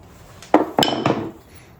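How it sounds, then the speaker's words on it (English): Steel chisel tapped and walked around the rounded corner of a door strike plate recess in wood, three sharp close knocks in quick succession with short ringing tails. "I can kind of just walk my chisel"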